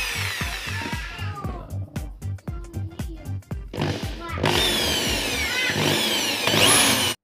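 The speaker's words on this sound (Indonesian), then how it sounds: "kita lanjut ke bor ya" Handheld power drill boring a hole for a cable, its motor whirring in short stuttering bursts at first, then running in a loud sustained whine near the end, close up with someone speaking between bursts.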